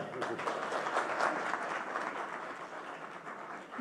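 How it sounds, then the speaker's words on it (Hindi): Audience applause at an interview event, a steady wash of clapping from a crowd that holds for several seconds at moderate level before easing slightly, with faint voices mixed underneath. "जोरदार तालियां।"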